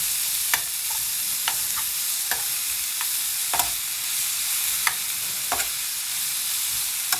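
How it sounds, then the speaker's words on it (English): Clams and tomatoes being stirred in a hot cooking pan, a steady sizzle with repeated sharp scrapes and clacks of the utensil against the pan, close and fairly loud. "Mix it up."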